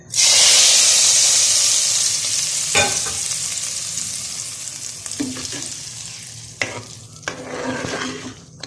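Hot tempering poured onto white chickpea curry bursts into a loud hissing sizzle that slowly fades, followed by a few sharp clatters and stirring scrapes of a spoon in the pot.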